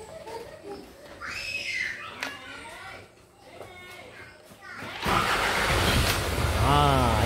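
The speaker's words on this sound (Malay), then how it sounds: "Saya start engine." Isuzu 4HJ1 common-rail diesel engine cranks and catches, building into a loud, rough running roar. Someone talks and children are heard in the background before it starts.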